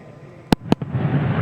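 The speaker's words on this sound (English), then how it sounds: "Sonic booms heard at the Kennedy Space Center." Two sharp, loud booms about a fifth of a second apart, then a weaker third thump, all from a SpaceX Falcon 9 first stage coming down to land at Landing Zone 1, Kennedy Space Center. A broad rumbling wash follows.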